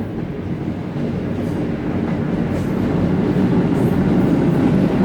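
A train rolls past right beside a station, a steady loud rumble of wheels and cars on the rails that grows slightly stronger over several seconds, with no voices.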